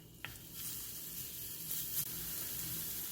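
Garlic stir frying in a tablespoon of oil in a pan over medium heat, a steady close sizzle with light scraping stirs, alone without talk.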